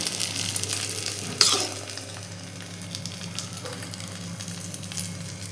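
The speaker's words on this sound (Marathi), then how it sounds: "हा ही ब्रेड आपण दोन्ही साईडने अगदी क्रिस्पी होईपर्यंत भाजून घ्यायचा आहे" Bread omelette, bread slices dipped in an egg mixture, frying in a pan until crispy on both sides: a steady close sizzle with a sharp flare early on, then an even crackle and a few light clicks.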